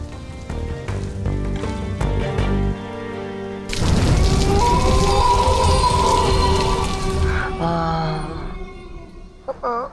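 Steady rain hisses and patters loudly across a surface, starting after a few seconds of tonal sounds and continuing without pause.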